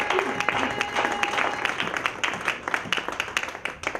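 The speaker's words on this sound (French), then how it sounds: "Est-ce que nous pouvons donner une très bonne acclamation" A church congregation claps and cheers in praise, a dense, ragged burst of many hands applauding close by with voices mixed in throughout.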